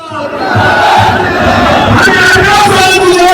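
A huge crowd at a Mayawati political rally roars and chants together, a loud, dense, sustained wall of voices from close by.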